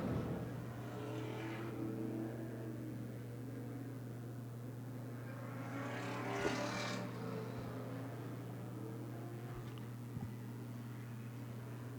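Antique race cars lap Seekonk Speedway in a feature race, their engines a faint, distant drone that swells briefly as the pack passes, with no voices.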